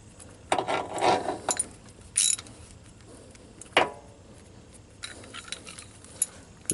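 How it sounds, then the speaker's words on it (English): Ratchet wrench and socket at work on a dogbone mount insert for a 2008 Volkswagen R32 with the 3.2 VR6 engine: a few sharp metallic cracks and clanks with a brief grinding burst, close and fairly quiet. "Did the ratchet explode?"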